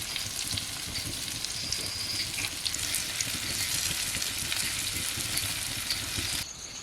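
Mahseer fish pieces fry in oil on a large, separate frying pan, giving a steady, close, continuous sizzle with faint crackles that runs unbroken for the whole stretch, no voices over it.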